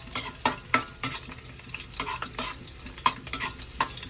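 Garlic sautés in hot oil in a pan, a close crackling sizzle punctuated by repeated sharp scrapes and taps of a spatula stirring against the pan.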